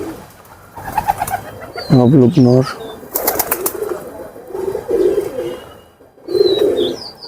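Pigeons in a loft, where pairs are nesting on eggs, coo loudly and close by in several bursts, with wing flutters and someone speaking between them.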